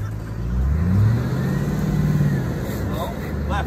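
A Land Rover or Jeep climbing rocks off-road, running without a muffler, gives a loud, close, rough engine drone that rises and falls, with voices calling out under it.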